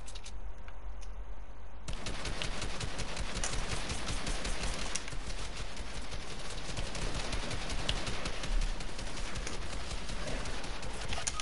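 Video game gunfire, a dense continuous barrage of rapid shots and clattering impacts running through the whole stretch, loud and busy with no voices.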